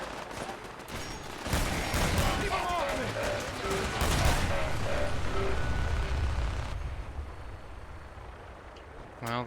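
A firefight rages in the video game Fallout 4, modded survival mode, with a dense, loud rattle of gunfire and bursts for several seconds that then fades. A voice talks faintly underneath.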